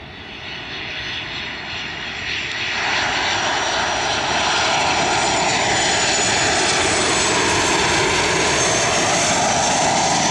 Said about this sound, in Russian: Вот так вот интересно наблюдать за самолетиками со стороны.